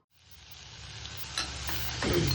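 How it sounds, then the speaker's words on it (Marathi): Onion sizzling as it sautés in hot oil in a kadai, a steady close frying hiss with a few stir scrapes and a louder burst near the end, no talking. "आता या तेलामध्ये हा कांदा परतला जातोय."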